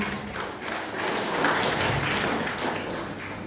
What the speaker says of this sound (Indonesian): Tepuk tangan untuk paten.